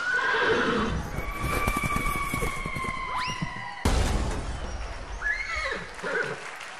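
A horse gives a loud, drawn-out whinny and then a second shorter neigh, with hooves clip-clopping underneath and a rising siren-like tone at one point.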